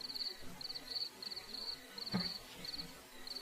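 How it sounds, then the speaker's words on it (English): Bugs chirp outdoors in a steady, repeating high trill of short pulsed bursts, with a faint low rustle beneath and no talking. "this mic seems to register it, why you can hear bugs"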